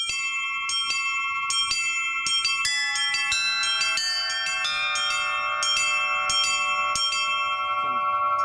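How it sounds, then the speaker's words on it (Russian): Church bells from the Litex works in Moscow and the N. Shuvalov foundry in Tutaev ring in a quick fingered pattern, paired double notes falling on the off-beats over a steady middle bell, bright sustained tones overlapping close and clear with no talk. "вот я нажимаю колокол, руку тяну, продолжаю тянуть, и она как бы падает на второй колокол"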